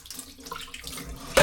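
Tap water running while a sea bream fish is washed in a kitchen, a steady soft hiss of flowing water that swells into a louder splashing gush at the very end.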